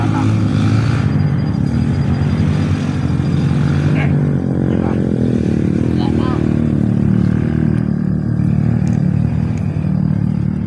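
Loud, continuous motorcycle engine drone nearby, with passing bikes swelling and fading over it and faint voices mixed underneath.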